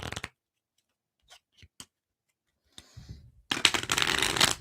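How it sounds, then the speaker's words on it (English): Tarot cards shuffled by hand, a few short isolated riffles and taps followed by a loud, dense burst of rapid card flutter at close range, with no talking. "Go ahead and shuffle these hoes up a little bit."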